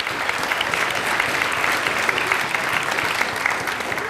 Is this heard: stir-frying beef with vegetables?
no